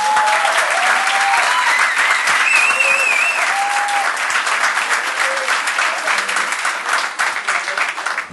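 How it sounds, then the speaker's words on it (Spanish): Loud, sustained applause from a concert audience for a guitarist, steady and dense throughout before thinning slightly toward the end. "Pido un fuerte aplauso para el señor Alejandro Ferradas."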